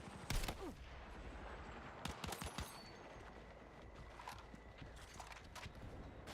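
Gunfire rattles in a shooter video game as rapid bursts and single sharp shots crack in clusters over a low steady background, fairly faint overall.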